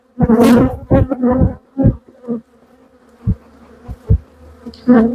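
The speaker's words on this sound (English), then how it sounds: "see a load of bees flying up now because The space has been emptied" Honey bees buzz as they fly up from an emptied hive super, a faint steady hum running underneath loud intermittent sounds, with a few brief louder buzzes near the end.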